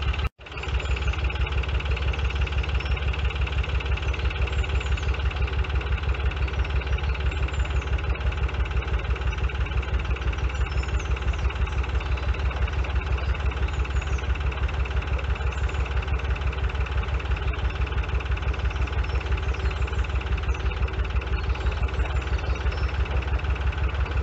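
Steady, continuous diesel drone of a narrowboat engine while cruising along a tree-lined canal near Llangollen, close and even with no talk.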